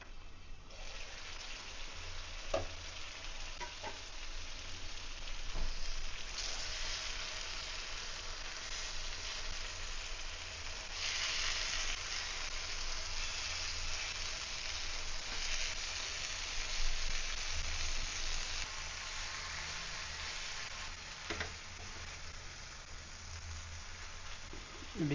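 Egg pepper fry sizzling steadily in a hot pan, a dense continuous crackle of frying oil with a few soft clinks and scrapes as the egg is flipped, close and fairly loud throughout.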